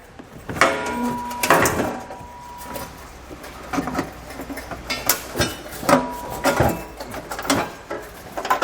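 A Curt trailer hitch receiver slides back and forth under the bumper cover of a 2020 Ford Explorer, with repeated close metallic knocks, scrapes and rattles in uneven bursts.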